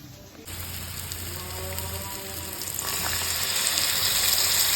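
Masala spices sizzling and frying in a pan for chicken curry, a steady loud hiss that starts abruptly and swells brighter midway, with no talking over it.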